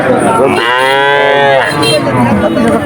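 A calf at a cattle market gives one long, loud, close moo lasting about a second, with busy market ambience underneath.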